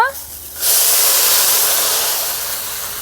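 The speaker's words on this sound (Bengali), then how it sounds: "ডাল ভেজে নিয়েছি ডালে জল দিচ্ছি সেদ্ধ করে নেব" Water poured into a pot of fried lentils sets off a sudden loud, steaming hiss after a short quiet moment. The sizzle holds strong and close, then slowly fades.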